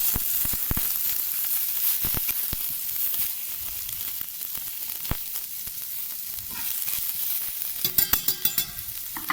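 Onion softening in a pan for broth, a steady close sizzle and hiss with scattered crackles and stirring scrapes, a few louder clattering knocks near the end.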